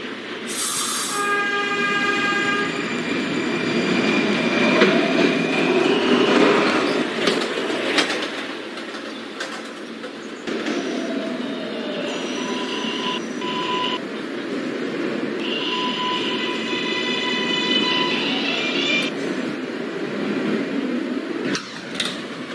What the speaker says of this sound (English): This is Kingsbridge-bound Q Express train.